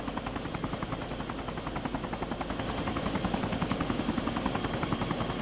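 Video game helicopter with a steady, fast rotor chop pulsing throughout, loud and close, rising slightly in intensity toward the end with no talk over it.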